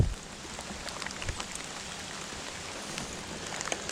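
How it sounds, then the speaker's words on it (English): Rain falls at a creek during a fishing trip, a soft steady patter with scattered sharper drops striking nearby surfaces, fairly quiet and continuous with no talking. "The only thing sucks is it's raining."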